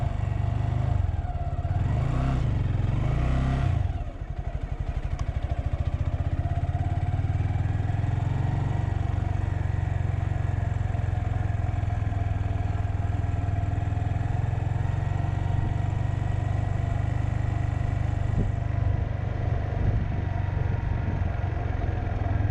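A Honda Grom ABS motorcycle engine is revved once, then settles into a steady, close, loud idle rumble with light mechanical clatter, and no voices.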